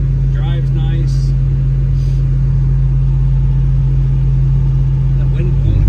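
A 1968 Pontiac LeMans GTO tribute with a 455 engine and five-speed cruises at about 70 mph, its steady low engine drone and road rumble continuous and loud throughout, with a brief voice in the opening seconds.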